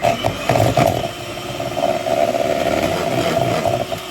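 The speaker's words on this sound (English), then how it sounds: "pop it in, and then we're just gonna whisk it all up" Butter is whisked for Christmas cupcakes, a steady buzzing motor-like whir with small rattling bursts, fairly loud and alone without talk.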